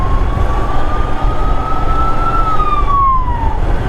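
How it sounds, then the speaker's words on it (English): An ambulance siren wails steadily in Delhi traffic, its tone slowly rising then falling away, over loud low road rumble with no talking. "when there's ambulance services and all that coming behind you"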